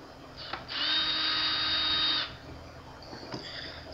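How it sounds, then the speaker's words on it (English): An electric screwdriver whirring as it backs out a screw from the lower cover of a Kenwood TM-721A radio, one steady close whine lasting about a second and a half, with faint clicks around it. "Remove the two screws from the lower cover, which are also located near the front panel of the radio."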